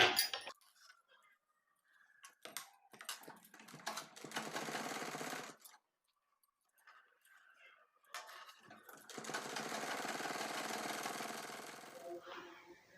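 A sewing machine stitches a petticoat hem in two runs of fast, even mechanical chatter, close and clear, with quieter clicks and handling noises in between.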